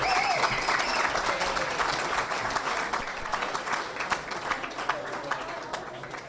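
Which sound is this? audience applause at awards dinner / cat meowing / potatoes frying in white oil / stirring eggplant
audience applause at awards dinner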